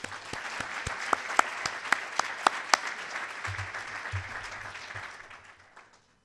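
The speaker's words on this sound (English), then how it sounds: "give a round of applause to the Hall of Fame Committee" Applause at a high school Hall of Fame induction ceremony, a room of hands clapping with a few sharp close claps standing out, fading away over several seconds.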